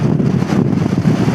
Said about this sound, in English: And then gusts are quite strong.